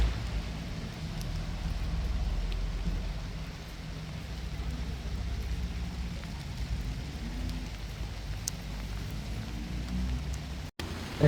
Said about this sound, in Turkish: öyle böyle değil bayağı yağıyor